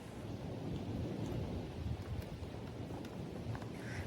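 Rain begins falling at a free seaside campsite on Korea's east coast while thunder rumbles, a dense, steady hiss of rain over low rolling thunder, fairly quiet and with no voices.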